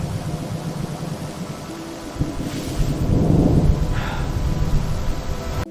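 A thunderstorm rumbles on with a continuous low roar that builds partway through into a heavier, louder peak, steady storm noise with no voices.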